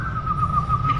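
A person whistles a single sustained, slightly wavering folk-style note, clear and close over a low background hum.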